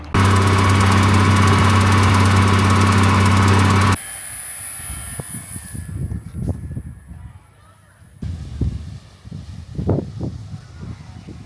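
A tractor engine fertilising sports pitches, running loud and steady for about four seconds before cutting off, leaving quieter outdoor rumbles and low knocks.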